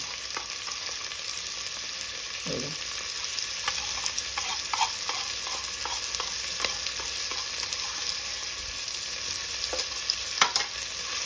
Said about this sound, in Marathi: ती पण चांगली तेलावर परतून घ्यायची.